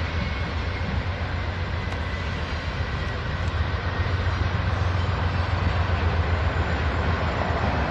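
A freight train hauled by a single locomotive rolls past nearby, a steady loud rumble with clattering wheels and rail noise that holds constant for the whole stretch with no voices.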